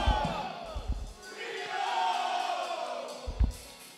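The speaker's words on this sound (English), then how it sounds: "A war cry." A church crowd, including alumni and a group of twelve, bellows a war cry together in one loud sustained roar, with thumping impacts at the start and end.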